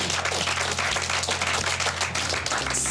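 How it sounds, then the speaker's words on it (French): Studio audience applause on a French-language reality TV dating show, a steady wash of many hands clapping over a low background hum, continuous at moderate level with no talk. "Applaudissements!"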